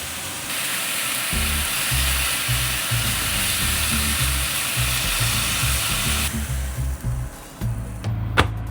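Gyro meat frying in batches in a pan, a loud, constant sizzle close by with low rumbling pops and stirring scrapes, easing toward the end.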